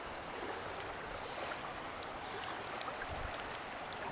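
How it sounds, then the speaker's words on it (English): Oklahoma floodwater pours into a residential driveway in a constant, soft rushing wash with no breaks, heard from some distance and fairly faint. "Water's just pouring in here."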